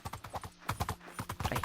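Horse hooves clip-clopping in Minecraft, a fast, steady run of hollow knocking steps in a galloping rhythm, close and fairly loud with no talk over it.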